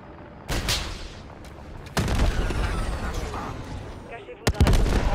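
Bursts of gunfire and explosive blasts during a helicopter fight in Call of Duty Modern Warfare 3, loud sharp shots in clusters over roaring battle noise, with voices speaking in between.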